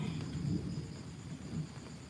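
Faint, low thunder rumbles through steady rainfall, a soft continuous roll with no voices over it.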